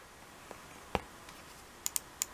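A few sharp, light clicks of a PICTEK wired gaming mouse's buttons come close up: a soft tap, one louder click, then two quick pairs of crisp clicks near the end.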